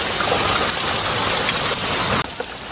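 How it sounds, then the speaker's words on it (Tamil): Heavy rain pours over open farm fields as a dense, steady hiss of falling water that is loud and continuous, with a brief sharp break near the end and no voices. "இங்க பாருங்க, செம்ம மழை."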